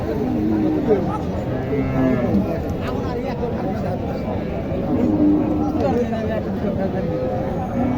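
Sahiwal cattle at a livestock market moo repeatedly, the low calls rising over a steady hubbub of crowd chatter and milling animals.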